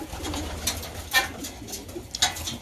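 Homing pigeons arrive at their loft and land on the landing board, with soft cooing and a few brief flutters over a low background murmur.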